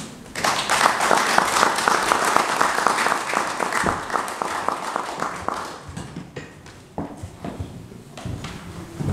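An audience at a press conference in Brussels applauds with dense, rapid clapping that gradually thins into scattered claps toward the end.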